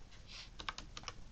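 Several crisp keystrokes tapped on a computer keyboard, close and fairly quiet, with a soft rustle just before them and no speech.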